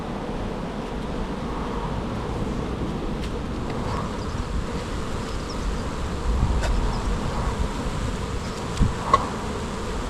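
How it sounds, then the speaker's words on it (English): Bees buzz steadily around a bin, a close, continuous drone with occasional nearer passes and faint wind noise, no voices. "A few rogue bees."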